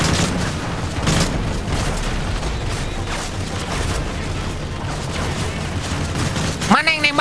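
Gunfire crackles in bursts through a chaotic Call of Duty: Modern Warfare 3 firefight, repeated shots and booms layered under continuous game noise, while a player talks and exclaims over the action.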